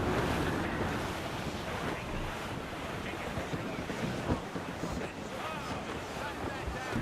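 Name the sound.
wind blowing at sea in Assassin's Creed Rogue video game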